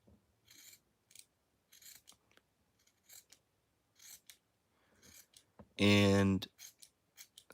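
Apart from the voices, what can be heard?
scissors cutting fabric for a plush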